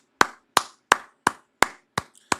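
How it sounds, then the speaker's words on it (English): Slow, deliberate hand claps, seven sharp separate smacks spaced evenly about a third of a second apart, close and crisp against silence. "I want to give you a round of applause."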